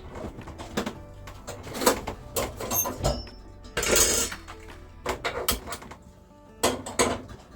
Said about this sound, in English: do some dishes.